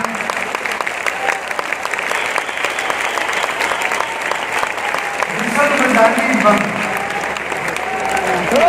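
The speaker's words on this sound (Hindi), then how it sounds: "अब केवल तालियां।" An audience at a health talk claps steadily and densely throughout. A voice speaks over the clapping, and the applause swells louder toward the end.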